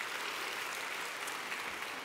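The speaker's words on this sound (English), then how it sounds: "perfect time for a round of applause" Steady applause from a congregation at a traditional church worship service, a dense even wash of clapping that holds at moderate loudness throughout, with no talk over it.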